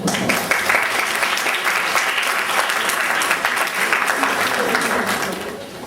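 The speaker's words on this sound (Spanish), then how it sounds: "pido aplausos, por favor" An audience at an academic linguistics week event gives sustained, even applause that holds steady for several seconds and then eases off at the end.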